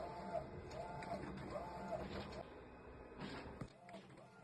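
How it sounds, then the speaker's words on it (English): An Epson SureColor F570 sublimation printer runs through a print job, its carriage whirring back and forth in a repeating rhythm at low level while a person talks nearby. "It's printing out now."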